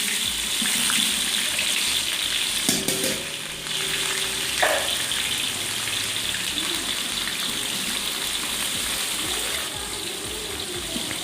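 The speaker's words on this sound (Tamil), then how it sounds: "கடுகு பொரிஞ்சதுக்கப்புறம் இது கூட நம்ம வெங்காயம் சேர்த்துக்கலாம்." Sliced big onions hiss and sizzle as they go into hot oil with popped mustard seeds in a large pot for tomato rice for 100 people, a loud continuous frying roar with a sharp clatter near the start.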